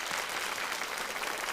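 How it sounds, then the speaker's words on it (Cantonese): Steady, dense applause from an audience at the grand final of a Hong Kong pet model contest, an even, continuous wash of clapping with no break. "俾啲掌聲佢哋好唔好啊？"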